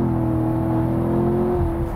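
Loud, close engine drone with a steady rising whine as a Corvette C7 Stingray accelerates in first gear out of a hill corner, continuous and alone.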